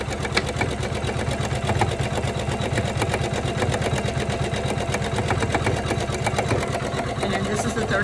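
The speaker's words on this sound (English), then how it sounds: "Right now it's just doing tack down stitch." A Janome 500E embroidery machine runs a tack-down stitch, giving a steady, rapid mechanical chatter of needle strokes that carries on evenly and close by, with no talk over it.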